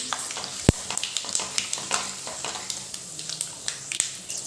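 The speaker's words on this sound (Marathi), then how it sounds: "हिंग ही मिरची ही जी लाल मिरची त्याने तडका द्यायचा छान" Asafoetida and dried red chilies crackle in hot oil for a tadka, a close, busy sizzle with frequent sharp pops and spits.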